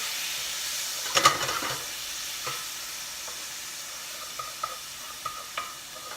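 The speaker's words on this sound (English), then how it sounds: "I'm going to deglaze the pan with a little bit of brandy." A steak pan sizzles softly as brandy deglazes it, a steady low hiss with a brief burst of bubbling near the start and a few small pops and spatters later, with no voices.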